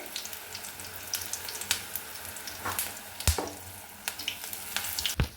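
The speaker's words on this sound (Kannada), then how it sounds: "ಮೀಡಿಯಮ್ ಹಿಟ್ನಾಗಿಟ್ಟು ಹಿಂಗೆ ಮಿರ್ಚಿ ಬೇಯಿಸಿ ತಗೋಬೇಕು ರೀ" Masala mirchi, chili fritters in spiced batter, frying in hot oil over medium heat: a steady close sizzle with scattered crackles and sharp pops, no voices.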